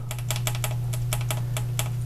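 A push button on a GIME-Z FPGA replacement board for the GIME chip is clicked repeatedly during installation, a string of quick, light, close clicks over a steady low hum.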